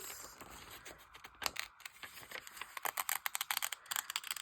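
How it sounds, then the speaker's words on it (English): Close, crisp snipping of scissors through paper, a quick irregular run of small crunchy cuts growing denser toward the end. "I love the sound this scissor makes on the paper. It's a little bit crunchy."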